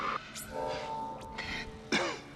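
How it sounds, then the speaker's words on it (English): A character in the video game Dead Space coughs and clears his throat a few times in short, fairly quiet bursts against a low ambient game background. "I like how when he coughs"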